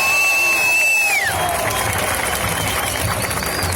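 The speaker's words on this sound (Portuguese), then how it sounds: "pedir uma salva de palmas para ela" Crowd of activists at a political rally applauding and cheering loudly throughout, with a dense wash of clapping and voices after a brief tonal sweep at the start.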